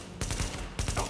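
Rapid video game gunfire in two short, close bursts of sharp overlapping shots, loud and punchy, with a brief gap between them.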